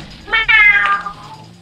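A person imitates a cat's meow in a drawn-out, wavering voice during a GTA V session with friends, loud and close, rising then trailing off over about a second.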